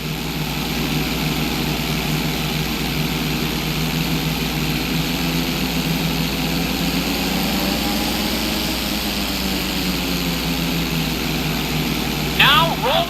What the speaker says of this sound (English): Now roll the plane right side up.